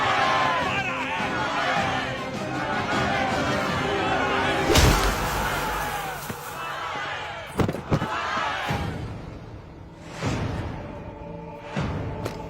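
A dense crowd murmurs and shouts in the background, a steady hubbub with a few sharp bangs and bursts standing out. Speech from individuals rises above the general noise in places.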